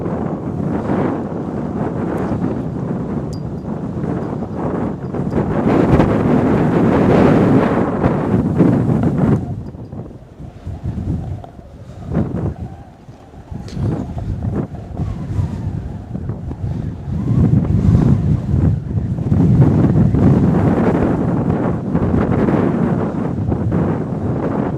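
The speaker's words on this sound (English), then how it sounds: "Y'all hear that wind?" Strong gusty wind at Northern Kentucky International Airport on a cold day, roaring and buffeting loudly across the microphone in long surges that briefly ease around the middle before building again.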